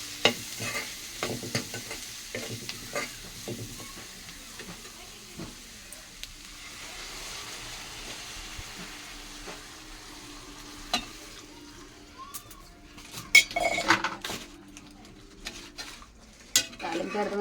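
Onions fry in a pan and are stirred, loud sizzling with scraping strokes at first, then fading to quieter bubbling. Sharp clinks of a spoon against the pan come near the end.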